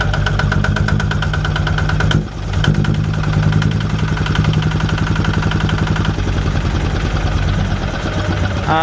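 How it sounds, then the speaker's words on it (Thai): A new Kubota engine runs on an e-taen farm vehicle fuelled with B20 diesel, chugging steadily at idle, loud and close, with an even rhythm throughout. "นี่เครื่องของคูโบต้านี่"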